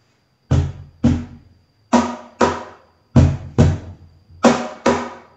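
A homemade wooden cajon is struck for its snare sound, eight sharp slaps with a buzzy rattle, grouped in pairs, close and loud with quiet gaps between.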